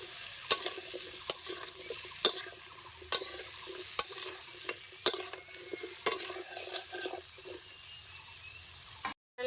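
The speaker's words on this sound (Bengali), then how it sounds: "বড়াগুলি হালকা ভাজা হয়ে গেছে উঠিয়ে নিচ্ছি" Lentil fritters (bora) fry in hot oil while being stirred, a steady sizzle broken by regular scraping clicks of a spatula about once a second, close and fairly quiet.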